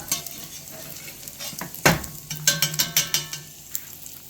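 Meat frying in rendered fat in a pan, a close hiss with a series of sharp clinks and scrapes from a utensil stirring and lifting pieces, no voices.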